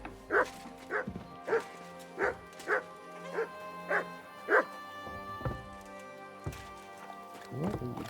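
A dog in the video game Kingdom Come Deliverance 2 barks about seven times in an even rhythm, fairly close, followed by a few scattered sounds and a brief voice near the end.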